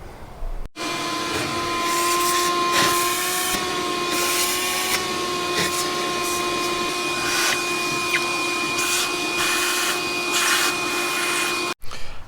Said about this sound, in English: So let's take our vacuum cleaner, suck that out.